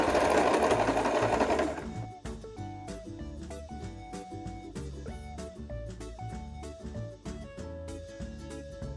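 A sewing machine stitches fabric pieces of a halter blouse together, beginning with a backstitch: loud, dense, continuous stitching for about two seconds, then a lighter, steady mechanical clatter that runs on alone with no voices.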